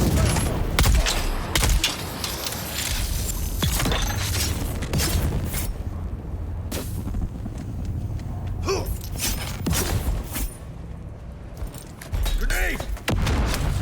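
Pistol gunfire in the Dune: Awakening video game, a dense run of loud, sharp shots and thuds clustered through the battle, with bursts of speech between them.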